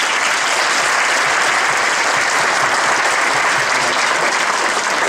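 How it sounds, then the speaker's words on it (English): A school winter band concert audience applauds, with dense, even clapping filling the hall from start to finish at a steady loudness. "Let's give them a round of applause"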